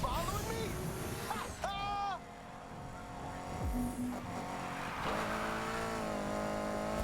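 A car engine in Need for Speed Heat revs and drones at close range, with rising pitch and brief tire squeals, while a voice talks over it.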